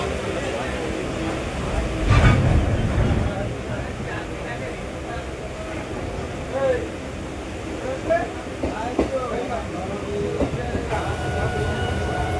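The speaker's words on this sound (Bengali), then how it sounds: "কৃষ্ণনগর থেকে আমাদের শিয়ালদা যাওয়ার ট্রেনটা এখন ছাড়লো" Local train pulling out of Krishnanagar toward Sealdah: steady low rumble of rolling carriages with occasional clanks and a louder jolt early on, heard from inside with faint voices around.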